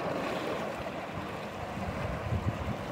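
Strong river current on a stretch of river near San Miguel Piedras, a steady broadband rush of water with low turbulent churning, continuous and close, with some wind noise on the microphone.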